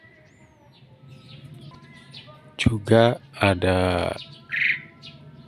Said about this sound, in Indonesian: kalau ini jalak suren